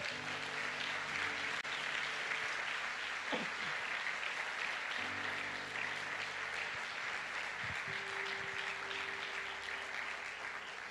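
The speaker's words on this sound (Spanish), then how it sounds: "¿Alguien puede darle un aplauso al Señor?" A church congregation applauds steadily throughout, fairly distant and even, with faint tonal murmurs of voices or music beneath the clapping.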